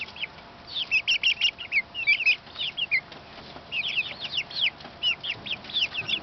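Chickens clucking and chattering in their coop enclosure, a busy run of short, bright calls in overlapping bursts, fairly close and steady throughout with no talking.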